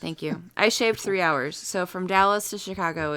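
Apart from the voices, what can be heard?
No everyday noise stands out behind the speech.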